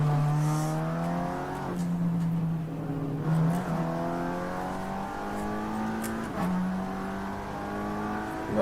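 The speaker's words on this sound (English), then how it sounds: "I'm sure that's the rumble of the Aston Martin GT4." An Aston Martin GT4 race car rumbles during a two-hour endurance race on the Nürburgring Nordschleife, its engine note rising through the revs and dropping at repeated gear changes, loud and close throughout.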